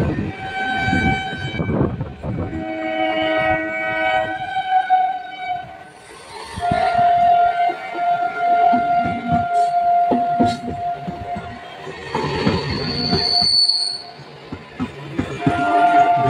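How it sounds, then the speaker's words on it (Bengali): Local trains rolling out on three lines at once, two up and one down, with long horn blasts and sustained whistle tones over steady wheel and carriage rumble, loud and close throughout. "এখন 3টি লাইন দিয়ে 3টি লোকাল ট্রেন বেরিয়ে যাচ্ছে, 2টি আপ ট্রেন আর 1টি ডাউন ট্রেন।"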